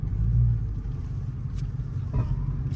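Dodge Charger RT fitted with Carven performance mufflers and a resonator delete, its exhaust giving a steady low rumble close by, with a brief rise near the end.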